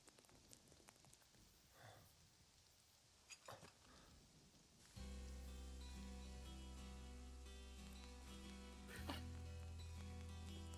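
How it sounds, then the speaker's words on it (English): Rain falls in the video game Final Fantasy VII Remake. A soft hiss is heard at first, then a dense steady patter takes over under a sustained musical drone, with a brief swell near the end. "And now it's raining."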